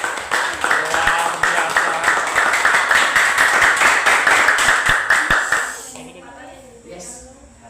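A classroom of students claps hands together in a dense, loud burst that lasts about six seconds before fading, with voices calling out over the clapping.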